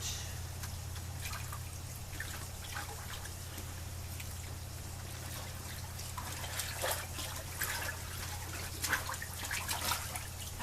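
A basket of laundry is dumped into water in an off-grid washer and pushed under, giving soft trickling, sloshing and splashing over a low steady hum, faint and close, with no talk.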